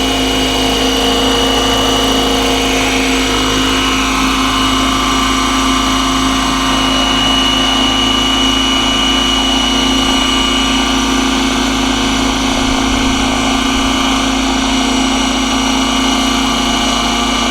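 Roban 600 Airwolf scale RC helicopter with retractable landing gear, its engine and rotor holding a steady, loud whine with a strong tonal hum throughout, close by and with no talking.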